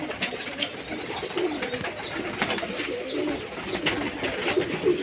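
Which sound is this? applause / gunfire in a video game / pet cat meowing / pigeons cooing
pigeons cooing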